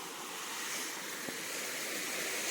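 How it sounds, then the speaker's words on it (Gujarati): Floodwater pours out of a waterlogged farm field in a steady, continuous rushing wash, loud and unbroken throughout with no voices. "આપણું પાણી આથી નીકળે આપણા ખેતરનું પાણી"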